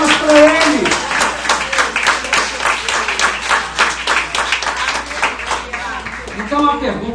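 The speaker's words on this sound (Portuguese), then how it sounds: "Uma salva de palmas para Ele." A church congregation claps at a service, sharp clustered claps pulsing in a loose rhythm while voices call out and speak over the top at close range.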